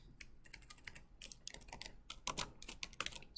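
Fingers tap quickly on a computer keyboard in an irregular stream of light, close clicks, with a few louder keystrokes, in an otherwise quiet room.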